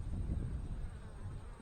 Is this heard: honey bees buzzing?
yes